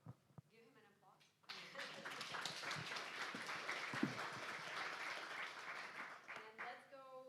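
Conference audience at a healthcare and biotech investment event applauds after a presentation: a few seconds of speech and faint sounds, then dense, sustained clapping from the room, with a voice returning at the end.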